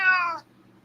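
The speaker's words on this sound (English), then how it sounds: "He has a deep meow." A single deep, close meow from Tobers the cat, lasting under half a second before fading into quiet room sound.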